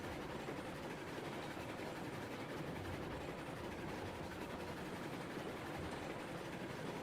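Train rolling steadily along the track in the Railroads Online simulator, a continuous dense rumble with faint rhythmic rail clatter, loud and close, with no voices.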